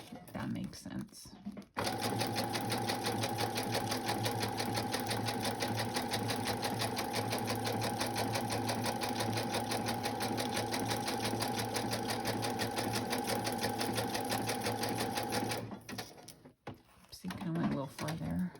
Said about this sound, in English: But also let it go through the sewing machine, if that makes sense.